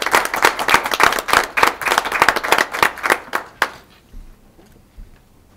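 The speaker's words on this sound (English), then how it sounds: "just like to give all those students as they move on a round of applause" An audience at a school board meeting claps for students, a crisp burst of individual handclaps that thins out and stops after about three and a half seconds, leaving near silence.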